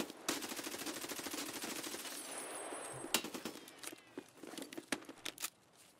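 Rapid, evenly spaced gunfire rattles in Escape from Tarkov in a long burst, followed by sparser, irregular shots at moderate distance.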